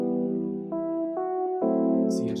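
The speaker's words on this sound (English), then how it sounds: "I added this reverb" A reverb-washed synth melody with its highs and lows EQ'd out, sustained harmonic chords stepping through a few changes, loud and steady, with a faint higher texture entering near the end.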